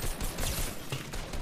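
Rapid bursts of video game gunfire in a free-for-all mode crackle faintly and repeatedly across the short stretch, with no speech over them.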